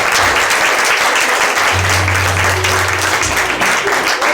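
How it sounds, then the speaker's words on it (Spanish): Loud, sustained applause from a church congregation fills the space continuously, with a low hum from the sound system running beneath it partway through. "dale un aplauso fuerte a nuestro Señor Jesús"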